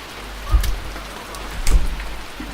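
Heavy rain in a Jack-o-Lantern horror video game, a continuous dense wash of drops with two low rumbling swells like distant thunder, no speech.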